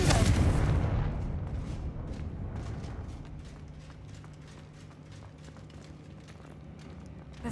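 A Confringo fire spell explodes in the Hogwarts Legacy video game with a loud, close blast that fades over a couple of seconds into a low rumble and light clatter.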